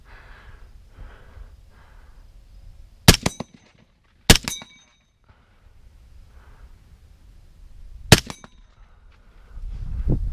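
An FN TAC3 AR15 rifle fires at an outdoor range: three sharp, loud, close cracks, the first two about a second apart and the third after a longer gap, separated by quiet rustling and breathing.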